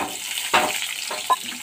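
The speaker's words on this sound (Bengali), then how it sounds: "বেগুনটাকেও আমি একটু ভাজা ভাজা করে নেব," Eggplant and potato frying in oil in a wok, with a low sizzle and two short bursts of stirring and spattering.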